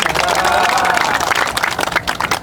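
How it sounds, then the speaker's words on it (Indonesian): An audience at a farmers' gathering in Lampung claps in a dense, continuous patter of applause that stays busy throughout, with a crowd murmuring beneath it. "Tepuk tangan."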